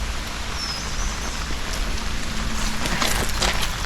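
Steady rain falls outdoors near a dam in Pennsylvania, a dense, even hiss of drops pattering on surfaces, with a faint bird chirp early on and a few sharper drips building toward the end.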